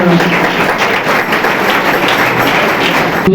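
Audience at an Uttarakhand Foundation Day function applauds steadily, a dense continuous patter of many hands clapping at close range for about three seconds, with no speech over it.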